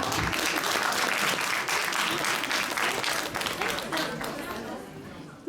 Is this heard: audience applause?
yes